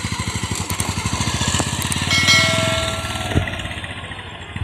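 Motorcycle engine revving during clutch practice for a learner rider: a close, steady thumping beat that swells louder mid-way, then eases back, with a single metallic clang near the end.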